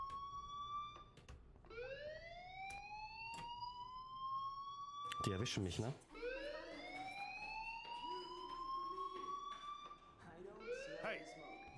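A fire alarm blares in the video game Life is Strange, rising electronic sweeping tones repeating over and over, with a person speaking briefly at the same time.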